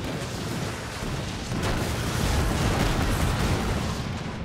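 Ship cannons firing volleys in the pirate naval game Skull and Bones, a dense sustained roar of overlapping booms and rumbling blasts, loud and continuous, with no clear gaps between shots.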